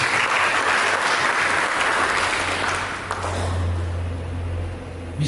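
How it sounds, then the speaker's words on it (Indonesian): A church congregation bursts into loud, dense applause that fills the hall, then fades down into a low rumble by the end. "Mari berikan tepuk tangan."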